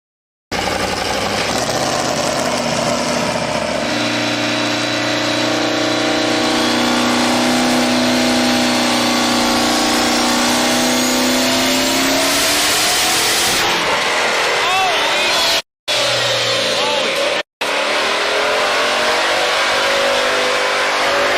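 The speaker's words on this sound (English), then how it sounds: "A racing car was carefully being loaded onto a tow truck, ready to be taken for repairs after a malfunction." Racing car engine running after a malfunction as it is loaded onto a tow truck, a steady loud drone that climbs in pitch in a long rev, with brief cut-outs near the end.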